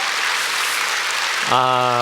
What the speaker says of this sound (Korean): 우리 다시 한번 박수로 환영하겠습니다